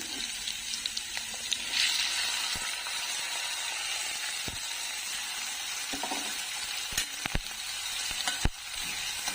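Moong dal tipped into a pan of hot ginger and chilli, giving a steady close sizzle and frying hiss with a few sharp clinks and scrapes of stirring scattered through.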